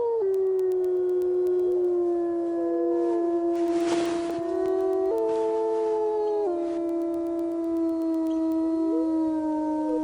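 A lone omega wolf gives a long, mournful howl with sustained wavering tones that rise and fall in pitch, loud and clear with a brief break midway.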